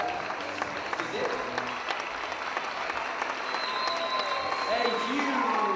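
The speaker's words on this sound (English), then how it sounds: "A huge round of applause for these wonderful alums, teachers and staff alike" Sustained audience applause for alums, teachers and staff at a Strut For The Cure benefit event, dense steady clapping that swells slightly toward the end, with faint crowd voices mixed in.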